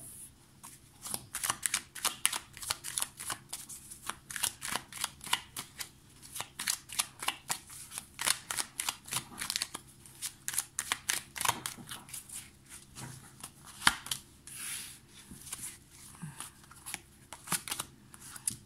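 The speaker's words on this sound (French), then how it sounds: "On va prendre 3 cartes." Tarot cards being shuffled by hand, a steady run of quick papery riffles and flicks lasting the whole stretch, close and clear with no talking.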